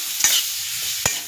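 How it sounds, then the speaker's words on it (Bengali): Ginger-cumin paste being stirred with taro in a frying pan: two sharp scraping strokes of a spatula against the pan over a soft, low sizzle, close and clear with no talking. "এতে দিয়ে দিলাম আদা জিরে বাটা। এইভাবে নাড়তে থাকবে"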